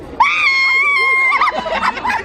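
A person lets out a loud, sustained scream lasting over a second, followed by shrill excited yelps and squeals at a family Christmas gift exchange at home.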